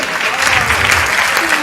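An audience at a Hindi comedy poetry recital claps loudly and steadily, a dense, continuous wash of applause throughout the short stretch.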